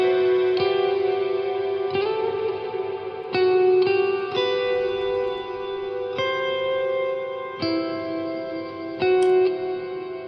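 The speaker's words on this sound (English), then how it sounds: "Starting off with one of my favorite reverb, which is Lexicon 2-4." A clean electric guitar plays a series of picked chords and notes, each ringing out into a lush, smooth Lexicon plate reverb tail that lingers between strums.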